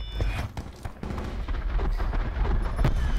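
SDM rifle gunfire in Black Ops 4: a string of sharp shots and booms over dense game ambience and low rumble, fairly steady throughout.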